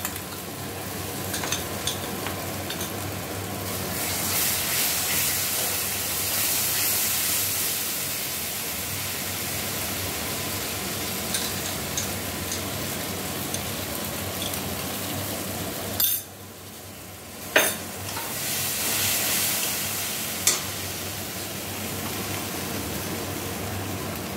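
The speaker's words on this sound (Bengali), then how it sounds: "এবারে আমরা কড়াইতে দিয়ে দিলাম আগে থেকে গুলে রাখা মশলার পেস্টটা।" Spice paste sizzles in a wok of fried onions while enchor chingri is being cooked. A steady, fairly loud frying hiss runs throughout, dipping briefly partway, with a few faint utensil clinks and no voices.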